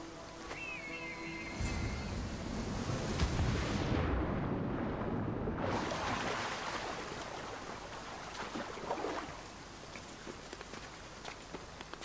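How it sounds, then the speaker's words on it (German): Waterfall in the video game Assassin's Creed Odyssey, a loud continuous rushing roar of falling water that swells then thins out, with brief musical tones near the start. "Das ist der Wasserfall."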